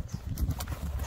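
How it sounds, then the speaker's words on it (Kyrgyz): Horse of Budyonny and heavy-draft cross breed running, hooves thudding in a quick uneven rhythm, faint and somewhat distant. "Аттын баскан басыгын, атты чуркатып көрөлү туугандар."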